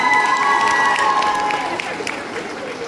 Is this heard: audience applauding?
yes